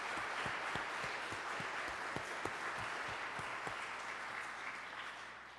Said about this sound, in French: Je vous demande encore de les applaudir chaudement pour ce pot-pourri de Noël.